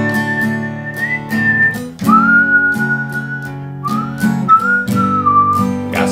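A melodic whistled tune with sliding, sustained notes over a steady instrumental backing, imitating the fiddle intro line of a country song.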